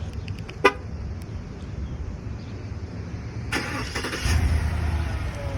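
A 2020 Cadillac Escalade Luxury responds to remote start, with a short horn chirp, a later click and rising engine turnover, then the engine settling into a low idle.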